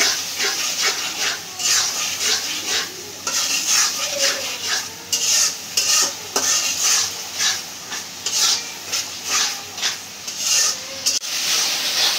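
Thick masala with salt, coriander powder and ginger garlic paste is stirred and scraped in a pan, giving steady rubbing, scraping strokes in an uneven rhythm, close and moderately loud, with no talk.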